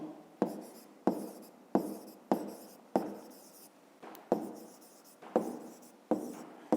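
Pen writing in a notebook during a fifth-grade maths exercise: nine or ten quick, scratchy strokes in steady succession, each starting sharply and trailing off, close and fairly quiet with no talking.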